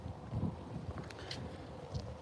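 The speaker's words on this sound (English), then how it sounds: "it's a little bit windy right now" Wind buffeting a microphone outdoors on a chilly early morning in Nevada, low rumbling gusts and soft rustle at a faint level, rising in a few brief thumps.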